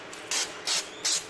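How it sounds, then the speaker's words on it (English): Brake cleaner sprayed onto a new brake rotor of a 2000 Buick Century, three short hissing bursts evenly spaced, close and loud. "take some brake cleaner and spray down"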